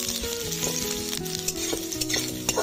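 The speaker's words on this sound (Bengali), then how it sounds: "দিয়েছি রসুন কুচি, রসুনটা হালকা ভেজে নেব।" Chopped garlic fries in oil alongside dried red chillies and nigella seeds, a close, bright sizzle with frequent metallic stirring scrapes and clinks against the pan, no talking.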